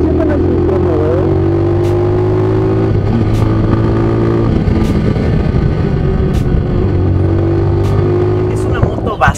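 A Vento Crossover 250 motorcycle, a light 250 cc bike, runs close with a steady engine drone that rises and falls as it revs, ending in a louder burst.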